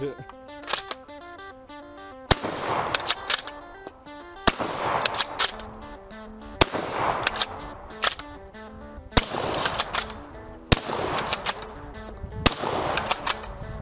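A bolt action shotgun fires at an outdoor shooting range, about seven sharp loud blasts spaced a second or two apart, with metallic bolt clicks and handling noise between shots.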